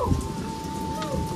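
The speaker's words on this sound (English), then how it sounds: "it's still raining" Steady rain pours just outside a trading post refreshment area at a Canadian-themed theme park store, with a low rumble of thunder early on, constant and fairly loud with no talking.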